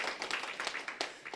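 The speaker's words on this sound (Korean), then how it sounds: "그래서 우리가 박수를 쳐드립니다." A church congregation claps during a Friday sermon, a brief burst of uneven, overlapping hand claps with no talking.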